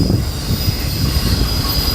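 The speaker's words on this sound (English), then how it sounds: "then we got our back locomotives coming up soon" BNSF freight train locomotives rolling past at close range, a loud steady rumble and wheel noise with a high squeal running through it, no voices.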